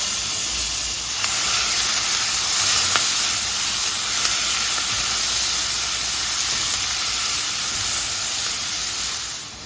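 A tablespoon of butter and a chopped onion sizzle loudly in a pan. The hiss is bright and unbroken, like steam, and runs close and steady the whole time before dropping off at the very end.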